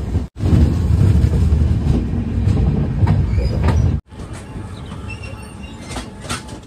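The 13151 Jammu Tawi Express rolls into Gosaiganj station, a heavy loud rumble of wheels on track, briefly cut off, then resuming with lighter clatter and faint squeals.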